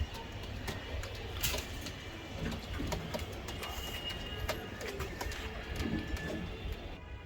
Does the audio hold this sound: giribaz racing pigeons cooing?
yes